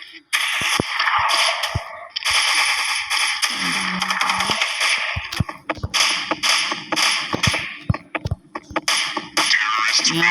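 Rapid bursts of AK gunfire in a video game crack out in sharp, repeated clusters with brief gaps, loud and close, mixed with short metallic clicks and game effects, and a voice talking at times.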